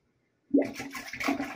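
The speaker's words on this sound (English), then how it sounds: "That is us flushing the other toilet in the house" A toilet in another room of a house flushes, a steady rushing and gurgling of water that starts abruptly and carries on, heard from a distance.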